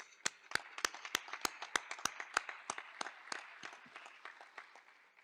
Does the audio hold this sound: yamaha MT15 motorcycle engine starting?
no